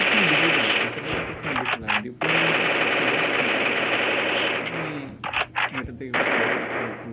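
Rapid automatic gunfire from the battle royale video game Free Fire rattles in loud sustained bursts with brief pauses, a dense mechanical chatter that dominates nearly the whole stretch.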